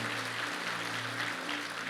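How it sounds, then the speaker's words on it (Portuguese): A church congregation applauds during a Sunday service, a steady wash of clapping over a sustained low organ-like hum. "Dê um aplauso a ele, para valer"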